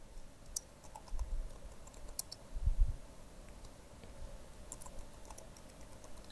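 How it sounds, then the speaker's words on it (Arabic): An email being typed on a computer keyboard, with faint, sparse key clicks and taps scattered over a quiet room background, a few soft thumps in between, and no talking. "نكتب الايميل"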